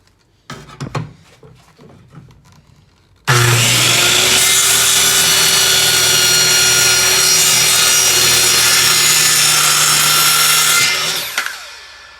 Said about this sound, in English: I'm using just a circular saw and speed square here, clamped to the tailgate as my guide.